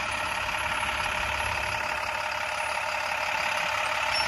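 A tractor-trailer truck's engine runs at a steady, low idle-like drone while the rig backs up, a constant mid and low engine hum with no clear speech.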